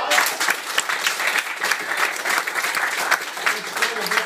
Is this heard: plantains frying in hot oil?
no